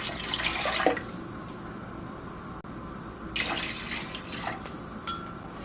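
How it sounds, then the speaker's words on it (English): Tap water runs into a cooking pot of beef on a high stove, a steady close splashing stream with louder surges at the start and again later, and no voices are heard. "I'm going to start adding my water"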